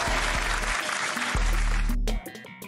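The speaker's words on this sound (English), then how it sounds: "There goes a round of applause." A canned round-of-applause sound effect plays in a dense, even burst of clapping and cheering for about two seconds before cutting off abruptly, with game sounds after it.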